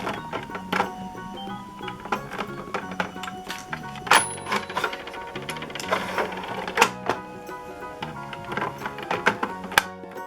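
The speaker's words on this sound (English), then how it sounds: "It comes with a key to open the cash register." Toy cash register from a pretend-play set being unlocked and opened with its key, giving a run of close plastic clicks, rattles and metallic clinks at varied intervals with a few sharper taps.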